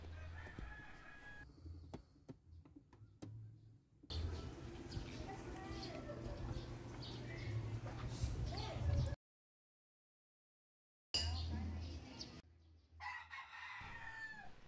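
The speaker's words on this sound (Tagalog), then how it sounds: "Daming manok." Roosters crow and hens cluck around a speaking voice, with a silent gap before more crowing resumes.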